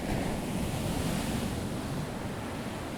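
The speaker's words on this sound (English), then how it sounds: "Hear the waves crashing in the background." Ocean waves crash and wash steadily onto a sunny beach, a loud, continuous surf roar mixed with wind noise and no talking.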